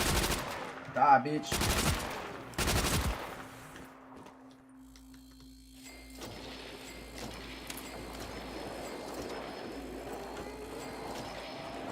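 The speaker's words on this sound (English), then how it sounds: "Ooh, a Tommy gun." Tommy gun bursts in a video game, two or three sharp loud rapid-fire volleys near the start, then quieter game ambience, with someone speaking briefly.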